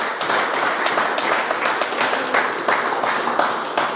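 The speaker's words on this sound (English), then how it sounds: "Just a round of applause, boys and ladies who are here." Steady round of applause from a small crowd at a footy league awards night for Adelaide Footy League Division 1, dense clapping holding at a constant level throughout.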